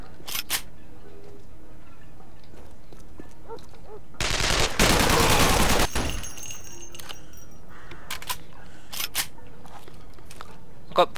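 Video game gunfire, a dense burst of rapid shots lasting under two seconds midway, with scattered isolated clicks and shots before and after, moderately loud against quiet game background.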